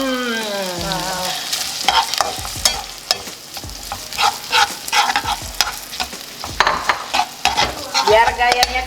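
Cauliflower butter fried rice being stir-fried in a pan, a steady sizzle broken by repeated scraping and clattering strokes of the spatula, close and fairly loud with no talk over it.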